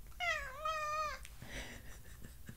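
A cat gives two drawn-out meows close by, the first longer and wavering, followed by quieter rustling and small sounds.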